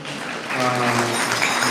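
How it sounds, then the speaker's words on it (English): Gathering of devotees clapping in gratitude for hospitality, loud dense applause swelling after a brief start, with some talk mixed in. "Let's clap and show our gratitude."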